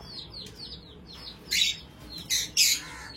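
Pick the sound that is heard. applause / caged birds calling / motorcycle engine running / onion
caged birds calling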